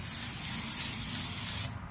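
Adhesive sprays from an aerosol can while building a trunk enclosure for a classic car, one close, loud, steady hiss lasting under two seconds before cutting off sharply.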